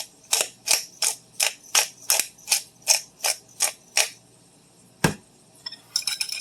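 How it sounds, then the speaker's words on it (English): A fork whisks eggs in a bowl, making about a dozen evenly spaced clinking strokes, then a single sharp clink after a pause and a quicker, busier clatter at the end, with no voices. "I like to use a fork to whisk the eggs"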